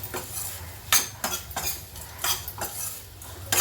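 A spoon stirring ridge gourd chutney mixture in a pan, with a handful of scraping metallic strokes at an uneven pace, close and clear over a faint sizzle, with no talking.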